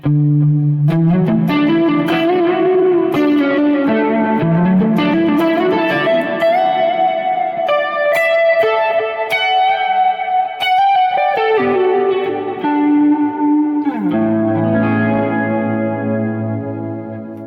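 Electric guitar with a shimmering chorus effect and overdriven amp tone, playing a continuous melodic line with sustained notes, loud and alone.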